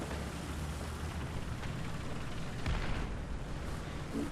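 Artillery fire in the War Thunder tank game booms and rumbles under a constant, heavy roar of battle noise, with a thump about two-thirds of the way through.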